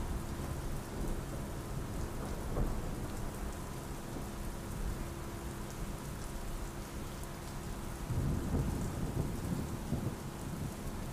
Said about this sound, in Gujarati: ભારે વરસાદના કારણે જેમ તમે જોયું સાબરકાંઠાના અનેક વિસ્તારોમાં વરસાદ વરસી રહ્યો છે